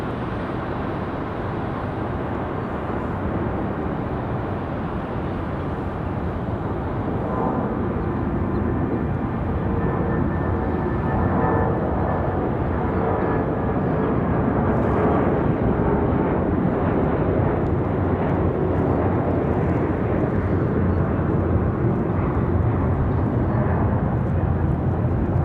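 An airliner departs Raleigh Durham International Airport with a broad, steady jet roar heard from a distance, slowly swelling in loudness over the whole stretch, with no talking.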